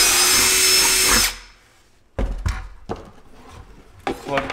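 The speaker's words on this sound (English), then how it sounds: "to give my jigsaw something to get started with, I'm gonna drill a hole." A power drill bores a hole in a plastic bucket, whining loud and continuous for about a second before stopping, followed by scattered knocks and handling sounds.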